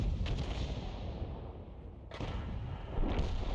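An artillery shell strikes a tank in World of Tanks, a heavy low rumbling impact with booming, muffled resonance, followed by a dull second thud.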